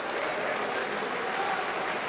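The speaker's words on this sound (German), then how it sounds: "Sie klatschen" Steady applause fills the Bundestag chamber, a dense continuous clapping from many hands without pause.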